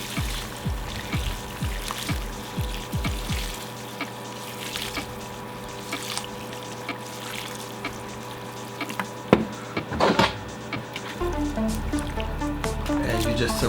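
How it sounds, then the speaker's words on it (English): Hot water pours steadily onto a large batch of dried noodles, a continuous close trickling and splashing stream that runs throughout, with some faint clatter near the end. "I'm adding hot water to it."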